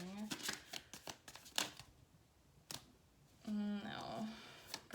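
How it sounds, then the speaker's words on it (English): Tarot cards are shuffled in short bursts of riffling and snapping, quiet and close, with a person talking between them. "I shuffled these a lot."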